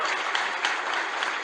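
A university lecture audience bursts into applause for a protester, a thick continuous patter of many hands, loud and even from start to finish with no break.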